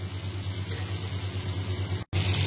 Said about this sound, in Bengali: তো এইগুলোকে প্রথমে এরকম বসিয়ে যে সাইড আমি কেটেছি সেই সাইডটা ভালো করে ভেজে দেবো।